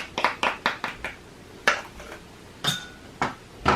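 A spoon stirs cinnamon powder into a morning drink in a cup, giving a quick run of close, bright clinks followed by a few slower, spaced taps. No one speaks.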